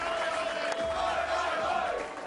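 Bowling fans at the PBA Tour Finals cheer and yell, loud and sustained, a crowd roar with one voice whooping above the rest throughout.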